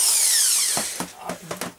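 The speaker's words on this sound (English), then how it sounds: "Cordless drills are fantastic things for what they are" A cordless drill with a weak, run-down battery winds down from a high whine, followed by a few short sputtering bursts as the motor stalls and restarts.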